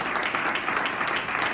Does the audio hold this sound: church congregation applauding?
yes